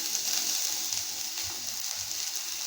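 Steady close sizzling of beetroot frying in a pan with curry leaves, a continuous hiss with faint stirring scrapes, no voices.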